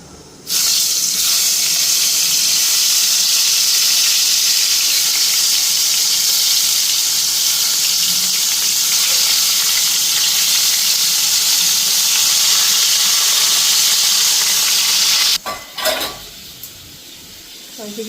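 Teasel gourd (kakrol) frying in hot oil gives a loud, steady, continuous sizzle that lasts about fifteen seconds, then cuts off abruptly and is followed by a few light clatters.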